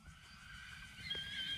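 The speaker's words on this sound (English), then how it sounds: "Horses are going crazy. My horses are losing their minds." Horses neighing and whinnying in a short, faint burst, a shrill call rising toward the end over a soft background.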